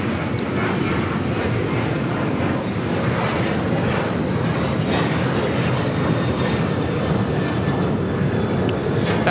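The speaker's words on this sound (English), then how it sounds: "United Airlines flight 2013 heading to Seattle, 737-900ER is our next takeoff here on the south side." A United Airlines Boeing 737-900ER takes off from the south side at LAX, its engines a loud sustained roar with rising whine, steady and near throughout.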